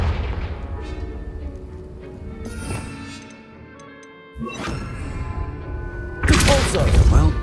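Confringo, an explosive fire spell in Hogwarts Legacy, goes off as a booming blast with a sharp crack near the end, loud and close over a humming game soundtrack.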